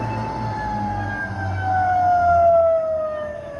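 An iDry vacuum kiln pump runs through its muffler at startup, giving a steady low hum with a thin whine that drifts slowly downward, fairly loud and close.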